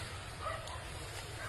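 A dog gives a quick, faint yip-like bark against steady background noise.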